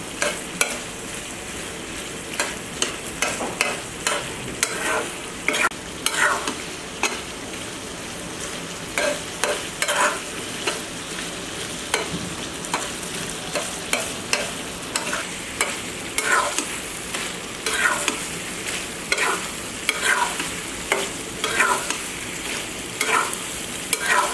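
Beef tripe being stirred and fried in a pan for an Eid-style bhuna, a spoon scraping in steady repeated strokes over a soft continuous sizzle, close and moderately loud with no talk.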